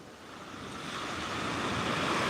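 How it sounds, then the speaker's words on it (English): Calm ocean surf washing onto the sand at the point on Oak Island, North Carolina, a soft, steady rushing wash that slowly swells louder, with no voices. "Like that's how calm the waves are."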